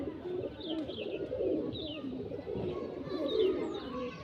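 Panjabi flying pigeons coo in low, soft, continuous murmurs close by, with a few higher flutters and chirps mixed in.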